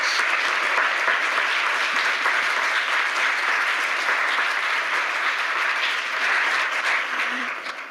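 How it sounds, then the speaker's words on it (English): An audience at a forum on food access in Arkansas applauds, a continuous, dense patter of clapping holding steady for several seconds before easing off at the end. "let's give her a big round of applause"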